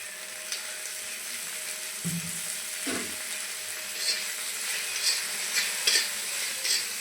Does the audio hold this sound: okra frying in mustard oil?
yes